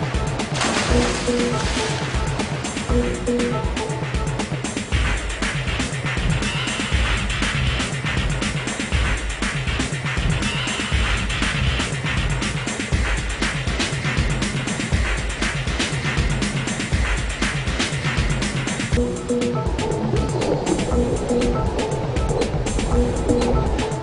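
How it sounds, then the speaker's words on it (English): Michael Phelps dives into the water and swims butterfly with powerful dolphin kicks, producing a steady, loud, continuous rush of splashing and churning water that lasts throughout without any talk. "After cleanly entering the water, Michael initiates his powerful body dolphins to drive him forward and up to the surface"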